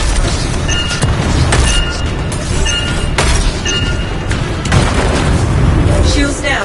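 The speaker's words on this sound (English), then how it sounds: "I think the explosion destabilized the foundry." Video game explosives detonate inside a foundry with heavy booming blasts and crackling bursts, several rumbling impacts rolling one after another at close range.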